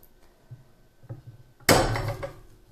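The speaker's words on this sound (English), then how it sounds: "So now we'll cut it into bars." A block of handmade soap pressed through a soap cutter: a few soft knocks, then one sharp close crunching cut followed by a brief fading rustle, with no talk.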